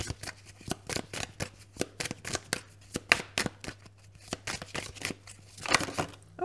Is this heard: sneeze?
no